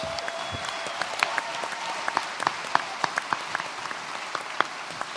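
Steady audience applause for new doctors at a graduation ceremony, a dense wash of hand claps with sharper individual claps standing out, continuing evenly at moderate loudness throughout.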